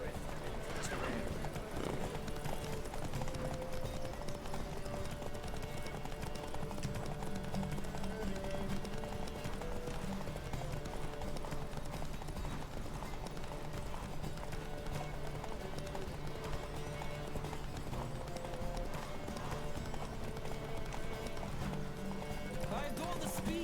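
A horse galloping in the Witcher 3 video game, its rapid hoofbeats running steadily throughout, with occasional whinnies and a voice talking over the game audio.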